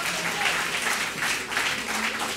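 A congregation applauding at a gospel celebration in church, sustained dense clapping from many hands with a few voices mixed in, close and lively throughout.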